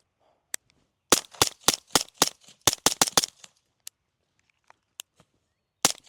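Nine-millimetre pistol shots through a SilencerCo Osprey 9 suppressor ring out at an outdoor range as a quick string of about ten sharp, muffled pops. A few isolated cracks follow after a pause, with quiet gaps between them.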